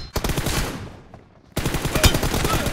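Video game gunfire in a team deathmatch tournament: rapid automatic bursts, loud and close, fading briefly into a pause before another dense burst of shots with a sharp crack near the end.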